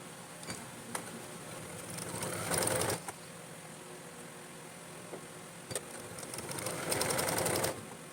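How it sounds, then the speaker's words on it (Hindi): A sewing machine stitches a double-layer fabric strip for a namaz chadar in two close, steady whirring runs separated by a quiet pause, with no talking. "ये जो हमने माथे के लिए जो पट्टी 16 इंच की कट की थी उसको भी हम पहले इस साइड से स्टिच कर लेंगे"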